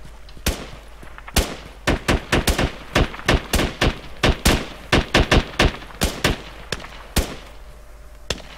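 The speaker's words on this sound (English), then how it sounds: "I'm receiving semi-accurate fire." Rapid bursts of gunfire in the tactical shooter game Squad, roughly twenty sharp cracks in irregular clusters over about eight seconds, loud and close with no talking.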